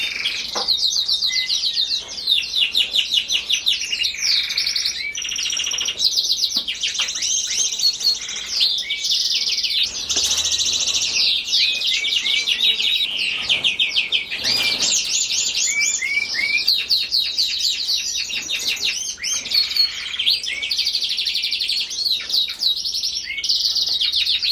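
Hawfinch and its chick chirping steadily at a nest, with dense, overlapping high-pitched calls and tweets continuing throughout, close and fairly loud without any talk.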